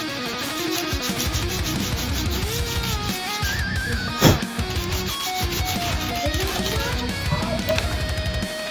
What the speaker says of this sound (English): We're gonna sand it down until it plays like butter.